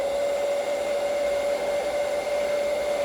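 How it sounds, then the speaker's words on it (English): Heat gun running steadily and loudly with a constant whirring hum as it shrinks heat shrink tubing over motorcycle blinker wires, with no pauses or talking. "I'm going to heat shrink these down."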